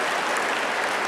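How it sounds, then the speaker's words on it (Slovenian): Men in a sports-awards audience clap together, a dense, loud, continuous burst of applause. "Za začetek, da zaploskate vsi fantje, moški, vsi gospodje, da slišam vse moške, da zaploskate, no dajmo."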